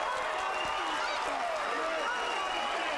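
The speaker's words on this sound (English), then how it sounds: "Standing ovation by this crowd." A boxing arena crowd cheers and applauds in a steady, dense roar after the eighth round of a pro fight, with a commentator talking over it.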